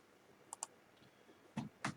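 Typing on a laptop computer keyboard, a few faint isolated key clicks followed by two slightly louder taps, close and quiet with no talking.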